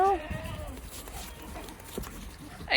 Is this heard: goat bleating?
yes